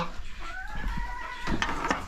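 Silkie chickens cluck softly nearby on a farm with a few quiet, drawn-out calls over light background noise.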